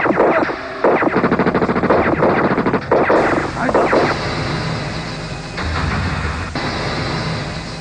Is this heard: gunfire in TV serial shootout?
yes